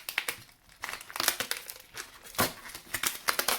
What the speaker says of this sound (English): And we can go ahead and remove that stencil. Just like it sounds, we're literally just going to peel it off.